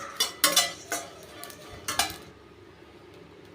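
Ingredients for angaya podi, a medicinal powder, are dry-roasted in a pan. A handful of close metallic clinks and scrapes come from stirring, and the clip then falls almost silent.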